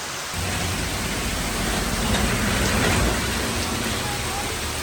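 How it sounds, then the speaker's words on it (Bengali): Heavy rain pours steadily in a dense, loud, unbroken hiss, heard from under a shop awning in front of the post office in Ullapara, a Bangladeshi village market town. "প্রচণ্ড বৃষ্টি"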